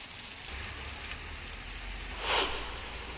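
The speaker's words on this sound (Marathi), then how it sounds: "जालन्यातील बदनापूर तालुक्याला मुसळधार पावसानं झोडपून काढलं।" Heavy monsoon rain pouring down in Badnapur taluka of Jalna, Maharashtra, a steady, fairly faint wash of noise with one slightly louder swell near the end.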